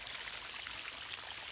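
Water gushes steadily from the pump pipe of a 39-foot hand-dug well, a constant broad splashing rush, loud and close, with no voices.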